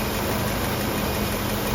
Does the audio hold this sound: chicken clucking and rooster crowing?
no